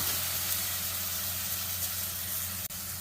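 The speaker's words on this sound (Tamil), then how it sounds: "இப்போ நம்ம அரைச்சி வச்சிருக்க புதினாவையும் மிளகையும் இதோட சேர்த்துறோம் சேர்த்து நல்லா வதக்குறோம்" Ground mint and pepper paste sautés in a pan for mint rice, a faint, even frying hiss running steadily over a low background hum, with one brief dip near the end.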